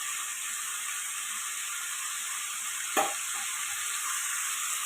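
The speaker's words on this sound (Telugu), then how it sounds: "మూత అయితే తీస్తే ఇలా ఫ్రై అవుతుందండి" A drumstick and cauliflower curry fries in a covered pan with a steady, bright, even sizzle, broken once by a single metallic clank.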